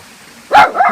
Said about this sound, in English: that's one of our dogs